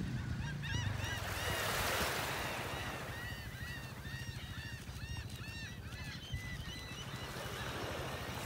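Seagulls and pelicans on a North Naples, Florida beach in the morning, with many overlapping gull calls and squawks repeating throughout, set against a steady wash of surf.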